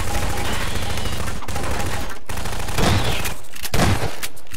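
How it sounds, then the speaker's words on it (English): Rapid gunfire in the video game Garry's Mod on a horror map, a dense continuous barrage with a few sharper bursts, loud and close throughout. "Can you stop shooting me?"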